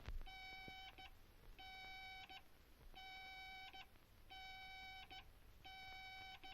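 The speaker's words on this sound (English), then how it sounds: "I hear a series of dash dots." A quiet electronic aircraft radio-range beam signal, heard in earphones right of course, beeps in a repeating pattern: a long held tone followed by a quick short blip, cycling evenly with hiss underneath.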